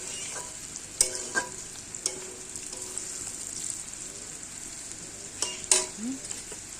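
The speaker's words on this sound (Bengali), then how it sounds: "পেঁয়াজ কলি আর আলু দিয়ে কিন্তু আমি ভাজা করলাম। ভাজাটা প্রায় হয়ে আসছে।" Onion greens and potatoes sizzle steadily in a pan, with occasional scraping and clinks as they are stirred; a soft, continuous frying hiss.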